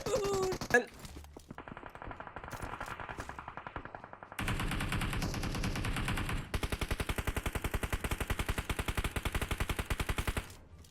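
Sustained automatic gunfire in the mobile shooter PUBG Mobile comes in long rapid bursts of evenly spaced shots, loud and close, with brief gaps between volleys.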